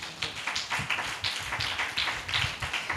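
A church congregation at a Sunday worship service claps hands loudly together, a steady run of sharp, close claps with no talking.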